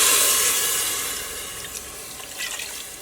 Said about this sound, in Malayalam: ഈ വെള്ളം ഞാൻ ഈ ചോറിലേക്ക് ചേർക്കാൻ വേണ്ടിയിട്ട് പോകണം